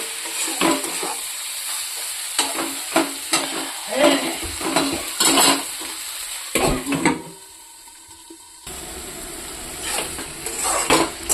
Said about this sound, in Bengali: এখন আমি দিয়ে দেব শিমটা। এটা দিয়ে একটু সময় ভাজা করব।